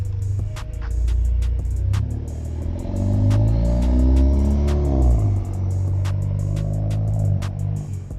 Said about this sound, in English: Somebody else is driving the car away without me in it.